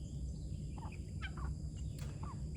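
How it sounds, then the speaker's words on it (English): Small free-range flock of guinea fowl and chickens calling nearby, a few scattered chirps and gobbling clucks over a steady outdoor rumble, moderately close, no talk. "Here come my birds, my little small flock of guineas and chickens."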